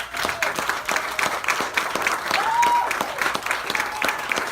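Enthusiastic audience applause fills a poetry book release party at a bar, dense steady clapping with a few cheers, sustained and close for several seconds.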